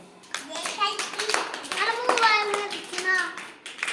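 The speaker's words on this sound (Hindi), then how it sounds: "चलिए आप मोबाइल में तालियां बजाओ" Children clap their hands, with sharp, irregular claps close by, heard over children's voices talking throughout.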